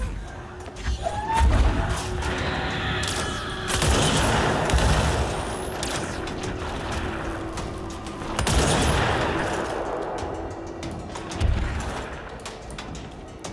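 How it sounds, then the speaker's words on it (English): Enemies shoot in the video game Control, producing repeated bursts of gunfire and heavy blasts that swell and fade over a rumbling background, at moderate distance. "Oh, they're shooting in there."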